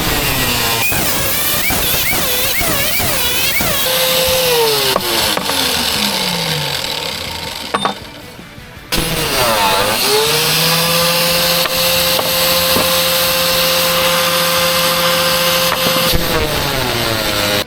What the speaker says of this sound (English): we're going to take the angle grinder, we're going to cut up against the sides here